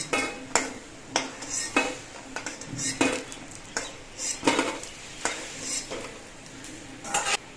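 Bitter gourd leaf pakoras frying in oil, a soft bubbling sizzle punctuated by frequent metallic clinks and scrapes of a utensil against the pan, no talking.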